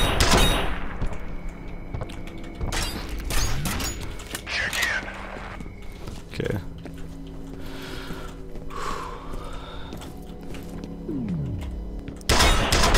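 A stake gun fires in the shooter game F.E.A.R., with several sharp, loud shots spread irregularly through a busy stretch of game noise and rumbling ambience.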